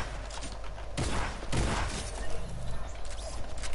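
A couple of sharp gunshot bursts crack in a video game firefight, a close rapid volley followed by another, over a background of rumbling game noise, with no talk.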